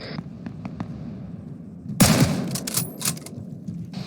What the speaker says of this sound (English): I'm shooting at guys on the stairwell.